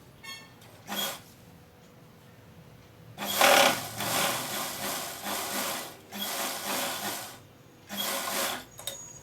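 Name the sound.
sewing machine stitching the cuff of a ladies' coat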